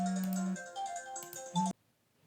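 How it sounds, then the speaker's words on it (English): A phone's ringtone plays a short melodic phrase with sustained tones, cutting off abruptly into near silence, heard during a piano chord lesson. "my phone is ringing"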